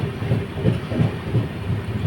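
The Padatik Express rolls slowly past Shaktigarh, heard from the open doorway as a steady rumble with a regular, evenly spaced clickety-clack of wheels over rail joints, loud and close with no voices.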